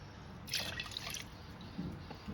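Water poured into an emptied coconut milk container while making pandan nasi lemak rice, a soft, quiet trickle and splash lasting a couple of seconds.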